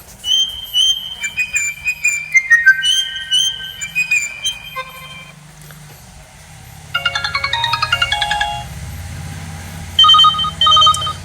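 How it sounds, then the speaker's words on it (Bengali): Electronic ringtones from a Sanee S113 Guru mobile phone play one after another: a bright beeping melody, then a rapid trilling ring, then short repeated chirps, loud and close without talk. "ফোনটিতে কিন্তু তিনটা রিংটোন দেওয়া আছে"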